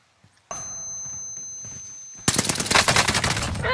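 A sudden burst of rapid gunfire in the video game Warzone rattles loudly and close, following a steady electronic hum.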